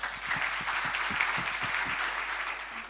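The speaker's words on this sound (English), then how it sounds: "Please give them a round of applause." An audience gives a sustained round of applause at the launch of the Africa Gender Initiative, a dense, steady wash of many hands clapping from a large crowd, with no talk over it.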